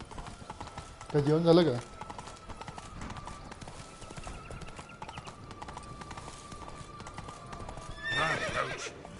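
Roach the horse from The Witcher 3 Blood and Wine gives two short whinnying bursts, one early and one near the end, over faint steady hoofbeats and game ambience, with a voice speaking briefly.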